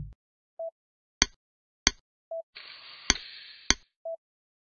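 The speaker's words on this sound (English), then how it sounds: "Now hammer in the pins to hold the jig." Four sharp, close hammer strikes drive pins into a jig in a virtual knee replacement surgery game, spaced at uneven intervals, alongside short soft electronic tones and a brief hiss.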